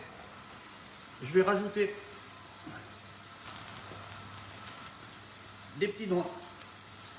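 Leeks and onions sizzle softly and steadily in a pan of butter, a low continuous frying hiss underneath someone speaking French.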